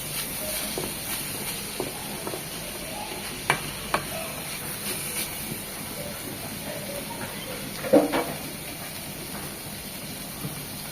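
Red amaranth greens cooked with chopped garlic and onion frying in a pan, a steady soft sizzle with scattered scraping stir strokes and a sharper clatter near the end, fairly close and without talk.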